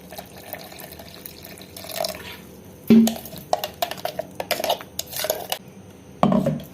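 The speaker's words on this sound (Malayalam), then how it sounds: "ഇതിലേക്ക് കുറച്ച് വെള്ളവും കൂടെ ഒഴിച്ച് നമുക്ക് അരിച്ചെടുക്കാം" Water poured into a ground mint juice mixture, heard as a short splashing pour with clinks of a utensil and dish around it, close and fairly loud with no talking.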